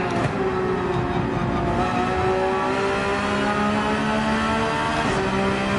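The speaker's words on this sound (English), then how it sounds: "the car beside me knows this track from the sounds of the engine when he was on the throttle" Race car engines in Gran Turismo 7 at Laguna Seca, a continuous loud engine roar with rising and falling pitch as the cars accelerate on throttle and shift, heard close, with no talking.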